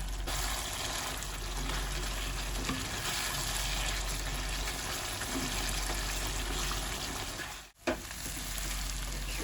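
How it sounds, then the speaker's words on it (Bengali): Mutton for a potato mutton curry is stir-fried hard on high flame, producing a continuous loud sizzle and fry with stirring, broken by a brief sharp dip near the end. "মাংসটা হালকা কষানো হয়ে গেছে, এবার আমি হাই ফ্লেমে ভালো করে কষিয়ে নিই"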